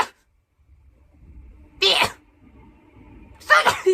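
A Japanese girl sneezes twice, each a sharp, close burst separated by a quiet pause, with faint breathing before each one.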